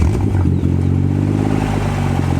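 A loud BMW M140i engine with no exhaust fitted turns over and settles into a steady, rough idle, close by and running continuously with a faint mechanical clatter.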